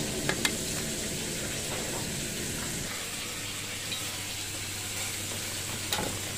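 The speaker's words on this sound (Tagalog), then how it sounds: "kulong-kulo na siya" Adobo chicken liver and gizzard simmer in a pot, a steady close bubbling and sizzling hiss that runs without pause, broken by a few faint clinks of a utensil.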